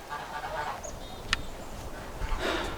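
Domestic geese honking in a backyard garden, several loud nasal honks from nearby against steady outdoor background noise.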